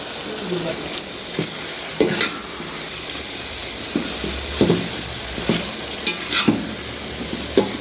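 Prawns frying in hot oil with masala for a Tamil prawn biryani, a continuous close sizzle broken by repeated scraping stirs of a spatula against the pan at irregular intervals.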